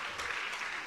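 Audience applause at a training session, a soft, steady hiss of many hands clapping together, heard at some distance without voices.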